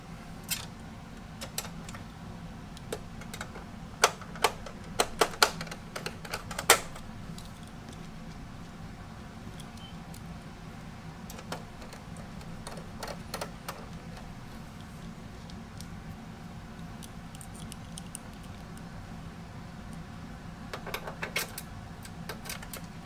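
Small screws being driven back into a PlayStation console casing during reassembly after cleaning, heard as scattered light metallic clicks and ticks in scattered bursts over a steady low hum, with quiet pauses between.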